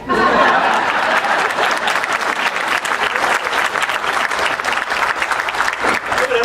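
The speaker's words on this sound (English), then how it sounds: "You can applaud at any time." An audience at a furniture fair conference applauds steadily for several seconds, dense and close, with a few faint chuckles mixed in.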